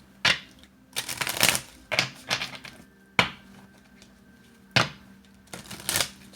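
Tree-themed tarot-style cards being shuffled by hand, giving several separate bursts of crisp riffling and flicking spaced through the stretch, fairly close and with no talk over them.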